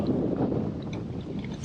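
Steady wind rumbles and buffets against the microphone outdoors at a fishing lake, a constant low roar with faint higher sounds in the distance.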